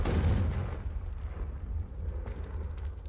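A fiery explosive blast from the Confringo spell in the video game Hogwarts Legacy, a loud booming burst at the start that rolls into a rumbling, crackling tail, with low-end rumble continuing throughout.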